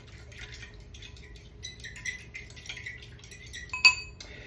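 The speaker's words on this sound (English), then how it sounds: "I'm gonna go ahead and just whisk that together with a fork" A fork clinks and scrapes against a bowl while whisking eggs with whole milk for French toast, a light rapid tapping and clatter at close range with one sharper clink near the end, no talking.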